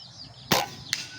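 Upgraded Indonesian-made Mini Predator airgun firing outdoors: one sharp crack followed a moment later by a fainter, quick impact or echo snap, both brief against a quiet background.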